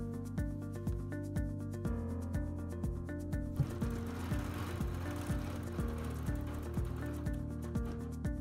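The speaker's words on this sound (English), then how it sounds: "Continue quilting curves around the circle until you complete the design." A sewing machine quilting curves around a circular design, its needle tapping in a fast steady rhythm with a soft rubbing, whirring hum underneath, quiet and close.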